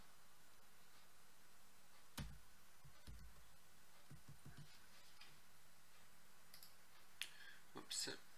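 Scattered key clicks from a new computer keyboard tap out a few irregular keystrokes, sparse and fairly quiet over a low room hum, with small clusters of taps spread across the stretch.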